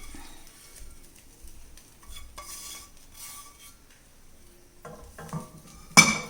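Fried brinjal being added to buttermilk in a pan and stirred, with sparse clinks and scrapes of a spoon against the pan, mostly quiet, and a louder clatter near the end.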